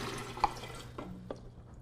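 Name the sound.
pouring spring water for tea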